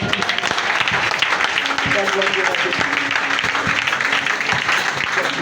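A church congregation cheers and applauds during a prayer service, a dense, steady wash of clapping and voices that runs loud throughout, with some speech mixed in.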